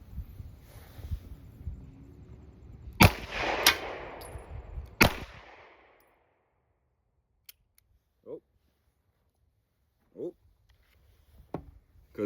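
Three sharp, loud 9mm shots from a Taurus GX2 pistol crack out at an outdoor range, spaced roughly a second apart and trailing into a brief echo. Quieter scattered clicks and handling noises follow.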